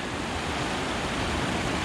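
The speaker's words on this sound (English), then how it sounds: "the river is overtopping it" Orange River floodwater pours over a canal wall used to irrigate vineyards, a steady dense rushing roar of water, loud and continuous with no breaks.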